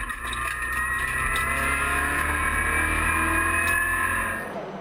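Peugeot RCZ race cars roar away together at the start of a race at Le Mans, a loud, steady blend of engines revving and droning close by for nearly five seconds, fading slightly at the end.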